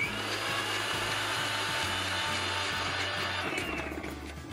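Mixer grinder grinding masala into a paste for Chicken Lababdaar, a loud close motor whir with a pulsing, churning low hum as the blades work the thick mixture, easing off near the end.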